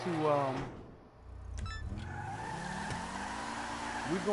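A Mitsubishi Eclipse-like car in GTA 5 Online drives with a steady engine drone and brief tire squeals, while a person talks over it near the start.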